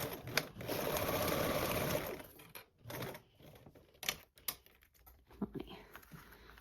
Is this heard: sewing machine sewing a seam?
yes